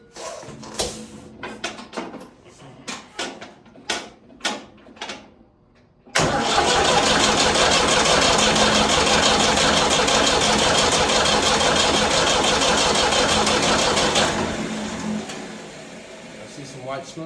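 A Ford 3000 tractor engine, recently fitted with a new wiring harness and battery and with its fuel system just bled, cranks in several short bursts, then catches and runs loudly and steadily before winding down, with a person talking.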